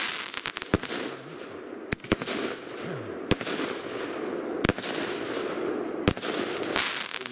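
A pyrotechnic flare firework goes off outdoors in a string of sharp, loud cracks and pops at irregular intervals, each standing out against steady background hiss, with no talk.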